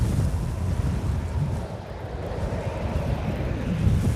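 A sandstorm wind blows as a loud, continuous rushing roar that buffets the microphone, rising and falling in strength with no voices heard.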